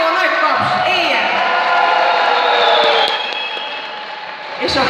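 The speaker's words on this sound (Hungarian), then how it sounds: "úgyhogy egy óriási ováció, nagy taps, éljen!" Festival audience at an outdoor senior citizens' celebration and sausage-making contest applauding and cheering, a steady close burst of clapping and whoops that tapers off near the end.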